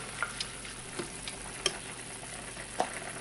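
A flour mixture is stirred into a sizzling sauce in a pan, with steady frying hiss broken by a few sharp clicks and scrapes of the spoon against the pan, up close and without speech.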